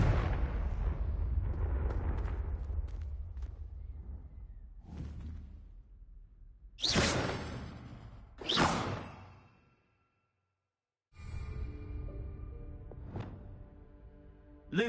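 Blasting Confringo spell explosions in the Hogwarts Legacy video game, two sharp bursts with swooshing tails and a third near the end, set against a dense game soundscape with a brief silent gap.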